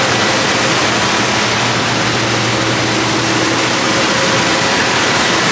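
Steady broadband rush of a village waterfall, water pouring down continuously in a cold mountain setting, loud and unbroken with no voices.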